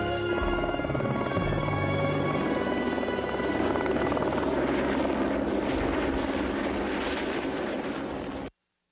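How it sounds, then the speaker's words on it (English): Steady rotor and engine drone of a helicopter, loud and continuous throughout, with a mechanical whine on top, cutting off abruptly at the end. "every morning a fleet of helicopters transports 60 crew and 20 tons of equipment"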